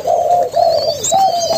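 Several young spotted doves kept in a cage coo loudly and up close, repeated smooth low notes in a steady rolling rhythm of three or four phrases with brief gaps, with faint higher chirps behind and no speech.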